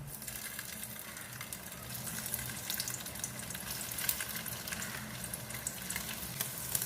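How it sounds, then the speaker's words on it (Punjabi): Paneer pieces fry lightly in about two spoons of oil in a frying pan, giving an even, close crackling sizzle that holds steady throughout with no voices. "ਫਰਾਈ ਪੈਨ ਅਸੀਂ ਰੱਖ ਲਈਆ ਦੋ ਕੁ ਚਮਚੇ ਤੇਲ ਪਾਣਾ ਪਨੀਰ ਨੂੰ ਹਲਕਾ ਜਿਹਾ ਰੋਸਟ ਕਰ ਲੈਂਦੇ"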